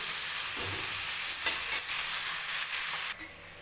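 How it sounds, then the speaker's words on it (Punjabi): Bell peppers are lightly fried in a pan and stirred with a steady close sizzle, broken by scraping stirs and soft clatter, with no voices. "ਇਹਨਾਂ ਨੂੰ ਹਲਕੇ ਜਿਹੇ ਭੁੰਨਾਂਗੇ ਜੀ"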